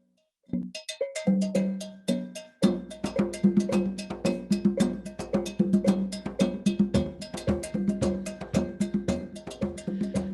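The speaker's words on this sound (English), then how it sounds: "I specifically took a rhythm, a Malinka rhythm, and put it into a piece of music" A Malinke rhythm set in an Afro-Latin jazz piece, carried by a bright, steady cowbell pattern over low drum tones, played cleanly and evenly after a short opening.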